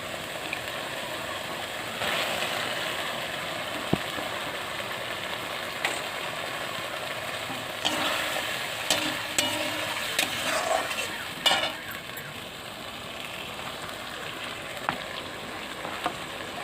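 Spice masala frying in a pan makes a continuous moderate sizzle while being stirred, with intermittent scraping and knocking of the spoon against the pan.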